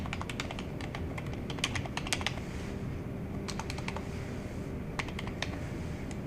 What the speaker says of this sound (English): cannot type on this keyboard.